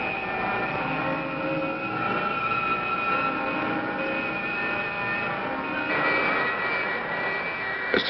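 A spacecraft engine effect from a 1964 science-fiction film: a steady, roaring jet-like thrust with whining tonal layers, continuous and loud throughout, swelling slightly near the end.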